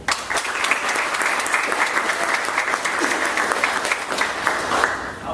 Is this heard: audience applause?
yes